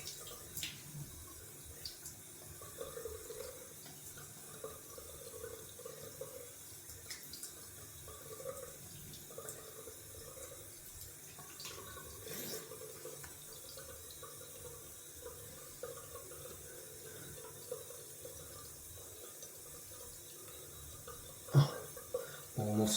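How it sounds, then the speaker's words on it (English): Bathroom tap running into a sink for a cold-water face splash after a wet shave, a soft steady stream with occasional splashes and drips, fairly quiet and close. "Gonna cold water splash."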